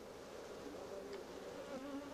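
Honey bees buzzing at a beekeeping hive, a continuous low droning hum of several insects with wavering pitch, fairly quiet and steady with no voices.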